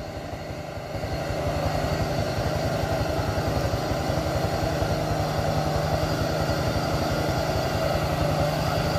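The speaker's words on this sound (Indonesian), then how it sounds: "Kocokan gasnya mantap bosku." A heavily loaded Fuso truck engine revs at full power, building from a lower rumble into a loud, steady, throbbing roar that holds for several seconds.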